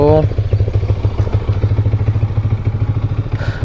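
A Yamaha R15 motorcycle on its stock exhaust idles close by after a cold morning start, its engine putting out a steady, even, low thumping pulse throughout. A short burst of voice comes right at the start.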